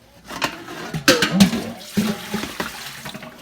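Water is poured over home-grown bean sprouts in a kitchen, a close, splashing gush that swells and trails off over a few seconds.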